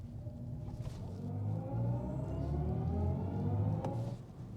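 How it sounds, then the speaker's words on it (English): A BMW i7 xDrive60 electric sedan launches hard in sport mode, a steady low drive hum swelling as it pulls away, with rising whine tones climbing through the run and fading near the end. "And I will now start this video off with a launch control of the BMW i7"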